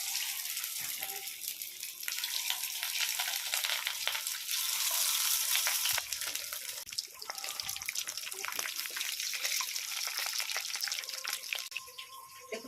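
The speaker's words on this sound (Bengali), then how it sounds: "দেখুন তেলটা কিন্তু গরম হয়ে গেছে তো আমি এখন এই চিলি ফিশটা একটা একটা করে কিন্তু আমি তেলের মধ্যে দিয়ে দিচ্ছি" Chili fish pieces frying in hot oil, a loud, continuous bubbling sizzle with small pops and crackles as pieces go in, close and steady throughout.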